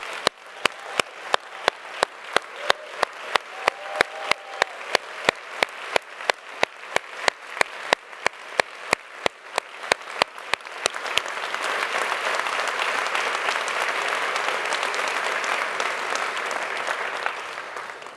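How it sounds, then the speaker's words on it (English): Audience at a health prize award ceremony applauding the winners, beginning with a few sharp, evenly spaced claps close by, then swelling into a full, sustained round of applause from the whole room. "will all of the 2017 winners please stand and join us in a round of applause"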